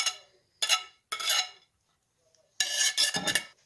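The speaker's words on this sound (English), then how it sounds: "I'm just going to mix it all up" Guacamole with chopped vegetables, herbs and cumin being mixed in a bowl, several short bursts of scraping and clinking utensil strokes against the bowl separated by quiet pauses, close by.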